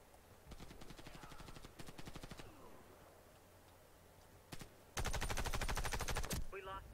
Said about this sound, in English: A shotgun from there, seriously?